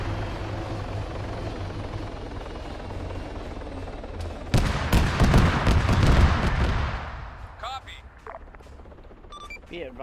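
Helicopter landing in the video game Arma 3, a steady low rotor thrum that gives way to a dense burst of gunfire, after which a few faint chirping game sounds trail off.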